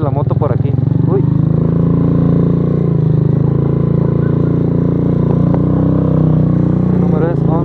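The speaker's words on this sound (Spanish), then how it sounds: "Espero y no se patine la moto por aquí." A delivery motorcycle labours up a steep hill, its engine droning steadily and close under someone speaking Spanish, with some rattling and clatter as it climbs.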